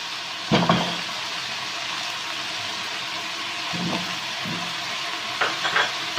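Creamy pasta sauce of ketchup, mayonnaise and fresh cream being stirred in a pan over a low flame, soft wet scraping and swishing with a few louder clatters of the utensil against the pan.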